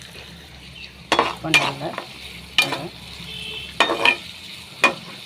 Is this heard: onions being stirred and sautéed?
yes